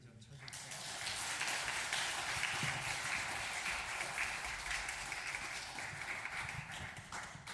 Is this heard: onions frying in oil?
no